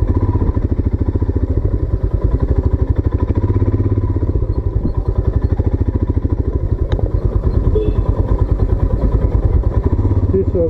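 Royal Enfield Himalayan BS4 motorcycle riding off-road at Harwan near Dal Lake, its single-cylinder engine thumping in a loud, steady, close pulse throughout with slight rattles and wind.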